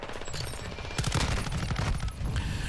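M13C assault rifle fire in a Call of Duty match, a rapid, loud, continuous burst of automatic shots across a few seconds.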